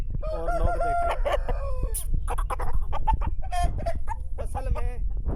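An Aseel rooster crows and clucks close up in a run of sharp, repeated calls, some harsh and some more tonal, over a low, steady background hum.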